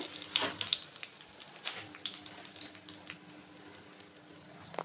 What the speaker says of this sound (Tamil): தாளிப்புக்கு ஒரு சட்டி வச்சு எண்ணெய் ஊற்றிருக்குங்க